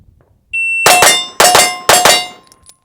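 A timer beep sounds, then pistol shots from a ported Staccato HD ring out, each shot followed by a metallic clang of steel targets. The hits land in three quick, loud bursts.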